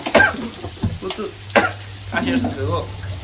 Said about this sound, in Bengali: মাছ ভাই ইলিশ মাছটা ভাজা ফেলবো।